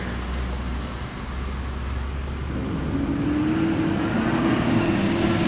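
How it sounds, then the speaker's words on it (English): On a rainy road, a truck passes a cyclist, its low engine rumble swelling and growing louder over a few seconds amid a steady wash of road and rain noise. "Truck."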